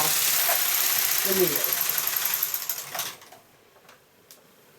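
A knitting machine carriage slides one pass to the left, giving a loud, continuous whirring rasp for about three seconds before it stops. A person speaks over it.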